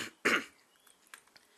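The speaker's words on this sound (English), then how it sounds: "Excuse me, I've got a bit of a cough." A single harsh cough from a man, close and fairly loud, followed by faint throat sounds in a quiet room.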